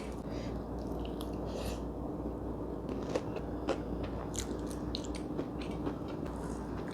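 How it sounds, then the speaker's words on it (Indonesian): Crisp bites and wet chewing of a crunchy apple close to the microphone, repeated irregular crunches over a quiet background hum, with no talking. "Orang lalap semangka, aku lalap apel."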